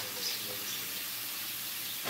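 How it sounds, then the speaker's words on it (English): Vegetables sizzling in a pan in a cafe kitchen, a steady, faint hiss of frying that holds even and continuous throughout with no talk over it. "They're already sizzling, as y'all can probably hear in the background."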